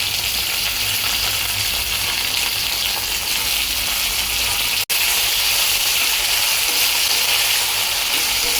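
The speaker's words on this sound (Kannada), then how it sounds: "ಒಣಮೆಣಸು, ಬದನೆಕಾಯಿ ಮತ್ತು ಕ್ಯಾಪ್ಸಿಕಮ್ಮು ಎಣ್ಣೆಯಲ್ಲೇ ಚೆನ್ನಾಗಿ ಬೇಯಬೇಕು" Brinjal, capsicum and dry chillies fry in hot oil with mustard seeds, cumin and curry leaves for vangi bath, giving off a steady, close, loud sizzle with hissing and a brief clink midway, no voices.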